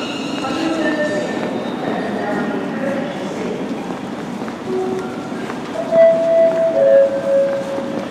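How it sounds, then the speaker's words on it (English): A train pulls into Stafford station amid steady platform rumble and background voices, with a couple of bright brake squeals near the end. "my train's about to come in now to Stafford"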